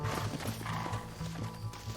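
Horse hooves in the video game Red Dead Redemption, a steady rhythmic clip-clop of a trotting horse at moderate distance under faint background game sound.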